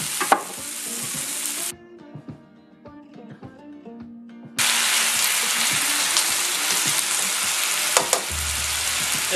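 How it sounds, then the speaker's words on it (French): Shrimp and cockles stir-fried in a wok with sauce and herbs: a loud, hissing sizzle with clatters of the utensil, briefly dropping to a quieter crackle before surging back to a full, roaring fry; no speech. "Et ensuite on y met la sauce et les herbes."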